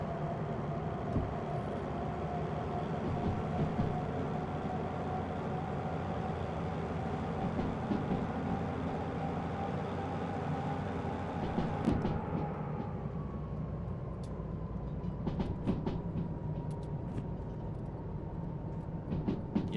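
Monorail train in the Derail Valley video game, a steady loud rolling rumble and hum with a sustained engine-like drone throughout, a brief burst of clatter near the middle, no voices.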